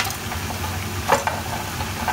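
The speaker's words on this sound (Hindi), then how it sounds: "जो अचार गोश्त के लिए था इसको मैंने सरसों का तो ऑयल डाल के अब इसको भून लेते हैं" Pickle-style meat frying in mustard oil in a pan, a steady close sizzle with a few brief stirring scrapes, no talking.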